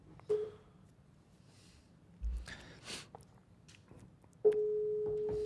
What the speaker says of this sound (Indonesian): Orang pertama coba ditelepon.